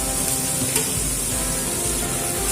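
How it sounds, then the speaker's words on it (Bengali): Spices for new-potato aloo dum, including Kashmiri red chilli powder, turmeric, salt and sugar, sizzle and fry in a pan while being stirred. The sizzle is dense and steady and sounds close, with no talking. "এবারে খুব ভালো করে সমস্ত মশলাটা কষিয়ে নেব"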